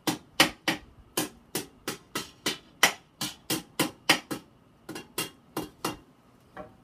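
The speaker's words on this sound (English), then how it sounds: "I don't know if it's necessary to hit it with a hammer, but I'm going to give it a few taps so just to make a nice edge" A hammer taps along a bent sheet-metal edge on a homemade oxalic acid vaporizer for beekeeping, about twenty sharp, ringing strikes at a steady, slightly uneven pace, close and clear with a short pause near the end.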